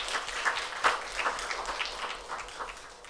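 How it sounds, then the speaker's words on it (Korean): Congregation applauding during a university chapel service, a steady wash of clapping from many hands throughout with a few sharper nearby claps standing out, no talking over it. "감사의 박수."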